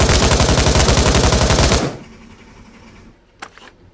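Fully automatic M16 rifle bursts in the VR shooter game Pavlov, a loud, fast rapid-fire stream for about two seconds, then stopping abruptly into quiet handling noise with a brief click near the end.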